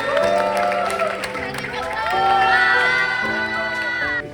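A welcoming audience at a university academy event cheers, whoops and shouts loudly and continuously, with a little clapping mixed into the steady crowd noise.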